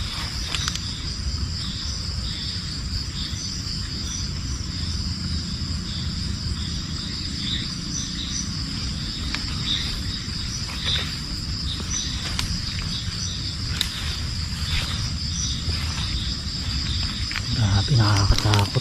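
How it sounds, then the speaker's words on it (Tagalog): Night chorus in the mountains near a ravine, a steady dense trilling of frogs or insects that carries without a break from start to finish, with a few faint distant calls and light rustling near the end. "Wala ka nang ibang maririnig dito kundi yung mga huni ng palaka."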